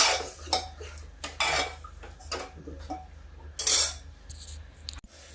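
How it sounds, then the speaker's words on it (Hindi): Masala roasting in a pan on a high gas flame for a brinjal and chana dal dish, with a metal spoon stirring and scraping in irregular clinks and scrapes over a low steady hum. "ये देखिए, अब इसको हम भूनेंगे, थोड़ा मसाला भून जाए।"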